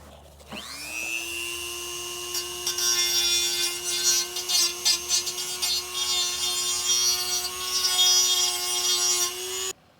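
A power tool whines up to speed and cuts into the flared ends of Jeep TJ exhaust parts, a close, loud, high steady tone with fluctuating grinding bursts before stopping.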